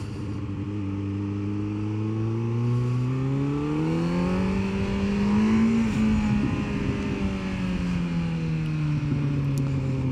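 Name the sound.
2025 Z900 motorcycle exhaust while riding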